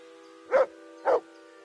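A dog in Kingdom Come Deliverance 2 gives two short, evenly spaced barks, clear and fairly close, over a faint steady tonal hum.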